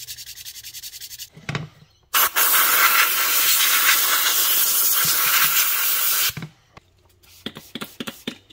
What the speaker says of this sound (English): All I'm using is normal sort of Tamiya model paint and my trusty airbrush.